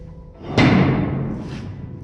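A heavy cell door at the old Gila County Jail in Arizona shuts with a single loud, deep thud, followed by a long, echoing decay in the bare room.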